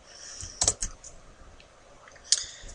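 Code being typed on a computer keyboard: a few sharp, close key clicks in a short cluster, a pause, then a final click, fairly quiet against a still background.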